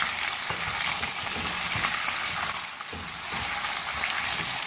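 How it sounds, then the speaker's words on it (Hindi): Potatoes frying with cumin seeds in hot oil for jeera aloo, a steady dense sizzle with stirring scrapes, close and continuous, easing briefly midway before resuming. "थोड़ा सा फ्राई करेंगे जीरे के साथ।"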